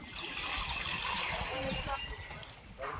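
Devotees at a temple pour water over themselves, making splashes and trickling spatter amid a busy crowd murmur, with voices audible in the background.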